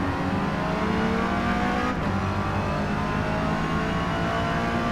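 In Forza Motorsport, a Mazda MX5 Rocket Bunny's engine drones loud and close under acceleration, a sustained buzzing race-car tone that climbs, dips with a brief shift near the second mark, then keeps pulling steadily.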